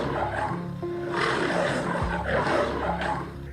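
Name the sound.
lion roaring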